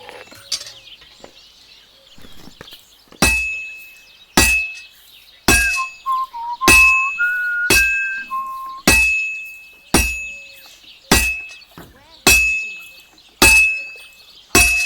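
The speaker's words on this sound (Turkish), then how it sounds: "Şimdi başlayalım dövmeye." Blacksmith forging in Kingdom Come: Deliverance II, with about a dozen loud, evenly spaced hammer strikes on hot metal at an anvil, each a sharp ringing clang that decays before the next; no talking.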